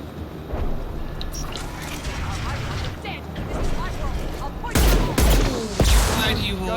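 Rocket launcher blasts and gunfire in Mass Effect 2, a steady din of combat with two heavy booming explosions near the end, mixed under in-game voices.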